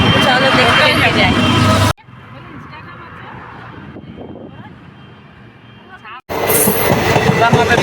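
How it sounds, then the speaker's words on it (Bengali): A train passes at Krishnanagar railway station in West Bengal with a loud rumbling rush. Voices are nearby, and the sound drops quieter in the middle before surging loud again. "দেখো পিছনে ট্রেন যাচ্ছে"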